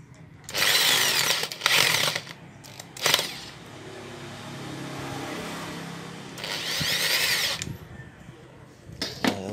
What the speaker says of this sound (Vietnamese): Rồi còn siết ốc vào thôi.